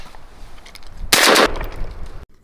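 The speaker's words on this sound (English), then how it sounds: "gunshot rang out" A rifle gunshot effect in an audiobook scene set outdoors at night in the woods: one loud, broad blast lasting about a third of a second, with a brief fainter tail after it before a sudden cut to silence.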